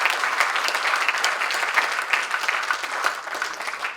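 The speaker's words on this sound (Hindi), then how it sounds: "तालियां बजाओ तो ज्यादा पुष्टि के साथ इन बच्चों के सामने बजाओ" An audience at a poetry gathering applauds in a dense, even wash of clapping that holds steady for several seconds without any voices.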